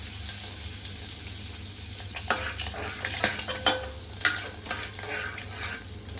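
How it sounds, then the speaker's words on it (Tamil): Cloves, cinnamon, cardamom and bay leaf sauté in a hot pan for butter chicken masala, giving a soft continuous sizzle with a few sharp scraping stirs and spatula clicks partway through. "லவங்கம், பட்டை, ஏலை, பிரிஞ்சி இலை போட்டு வதக்கலாம். கொஞ்சம் வதங்கட்டும்."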